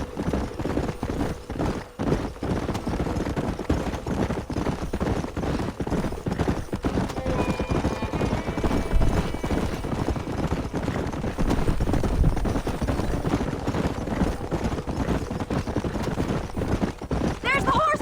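Horses gallop in Red Dead Redemption, a fast, continuous clatter of hooves that runs throughout, with game voices talking over it and occasional louder bursts.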